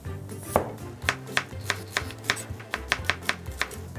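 A knife cuts the root end off an onion on a cutting board, about a dozen sharp, close chopping knocks in an uneven rhythm, loud against a quiet kitchen.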